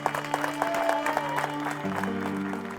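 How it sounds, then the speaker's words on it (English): A gathered crowd of supporters at a motor racing event claps, scattered hand claps over a steady low hum of engines or machinery, moderately faint. "a big round of applause, everyone, for coming out today"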